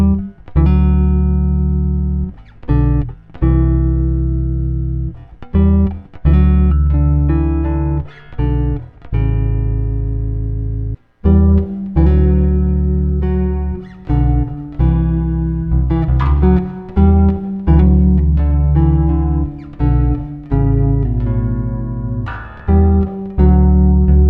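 Bass guitar runs through an Old Blood Noise BL-37 mono reverb pedal, playing a loud melodic line of low notes and chords with short pauses, a soft ambient wash trailing behind the notes.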